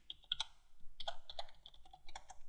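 Quick bursts of close, crisp clicks from keys being typed on a computer keyboard, uneven in rhythm and fairly quiet.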